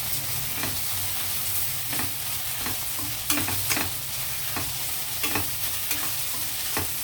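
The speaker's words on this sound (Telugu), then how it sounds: "ఇది ఒకసారి కలుపుదాం" Mutton paya, goat trotters with curry leaves, simmers and sizzles in a pot under a constant bubbling hiss, while a spoon stirs with a string of sharp scraping clinks against the metal at irregular intervals.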